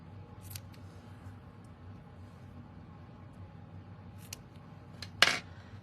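Scissors snip the edges of a bow, with a couple of faint quick cuts early on and a sharper, louder snip near the end against quiet room tone, with no talk.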